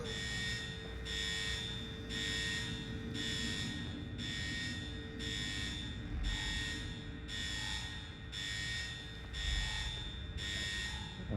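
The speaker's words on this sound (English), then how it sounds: "I said alarms are never good." The alarm at GCPD headquarters in Gotham Knights blares as a steady, evenly pulsed electronic tone, roughly one beep per second, loud and continuous over a low rumbling background, with no voices.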